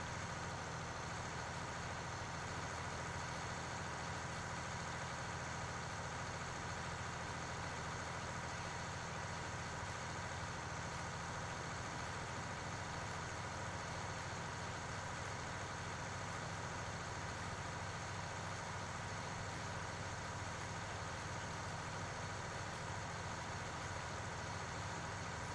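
A tractor engine runs steadily while working a field, a constant low droning hum with a faint even mechanical whine, unbroken and moderately distant throughout.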